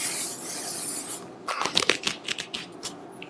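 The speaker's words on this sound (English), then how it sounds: "I'm going in with the tiniest bit of the One Size setting spray" One Size setting spray mists onto a face in a few short, quick bursts after a stretch of soft rubbing, close and fairly loud.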